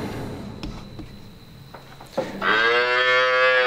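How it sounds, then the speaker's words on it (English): Young cattle, heifers and calves only days old along with bulls, moo in a dark barn; after scattered quiet shuffling, one loud, drawn-out moo rings out close by and holds steady to the end. "what we've got in here is 4 heifers and 2 bulls."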